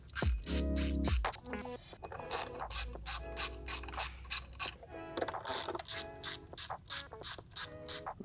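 A ratchet clicks rapidly in repeated bursts while loosening the 10mm cap nuts on a BMW S54 engine's beauty cover, close and crisp, with short pauses between runs.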